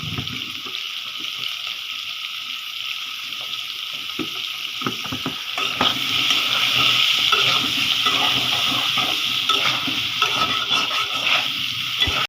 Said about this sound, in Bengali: আলুগুলি ভাজা শেষ এগুলি তুলে ফেলি